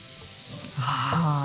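Belgian yeast waffles in a hot waffle iron, with butter melting out and sizzling: a brief soft crackle that swells into steadier hissing partway through, with no voices over it.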